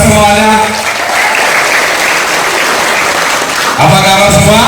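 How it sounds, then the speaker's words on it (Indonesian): Loud, steady applause from a seminar audience fills the room for several seconds, with a voice heard briefly at the start and again at the end. "Aplaus dulu dong untuk kita semuanya"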